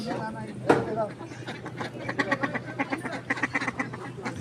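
Ducks quack repeatedly at a rural village market in Bangladesh, a busy cluster of calls over steady crowd murmur and people talking nearby.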